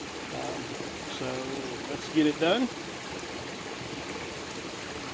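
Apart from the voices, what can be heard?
creek water flowing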